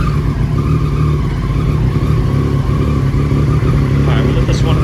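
A 2020 Triumph Street Triple RS 765 fitted with a Delkevic exhaust fires up and settles into a loud, close, throbbing idle that holds steady throughout.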